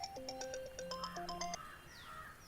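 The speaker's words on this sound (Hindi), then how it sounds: "किसी का तो फोन आ रहा है" A mobile phone ringtone plays as a bright electronic melody of repeated beeping tones at steady volume, close by, in a dubbed action film scene, with no talking over it.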